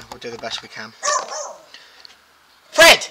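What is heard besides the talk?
dog barking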